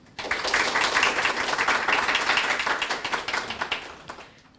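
An awards-ceremony audience for a social hackathon and Naver Happybean event applauds warmly to welcome guests, with dense clapping that starts abruptly, holds steady at moderate volume, then thins and fades out.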